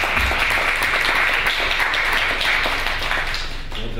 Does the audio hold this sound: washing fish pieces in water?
no